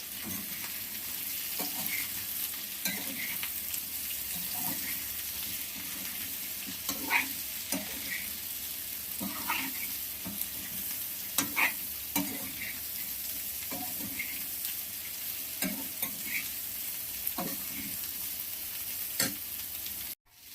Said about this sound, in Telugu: ఆనియన్స్ వేసుకొని కలుపుకున్నాం కదా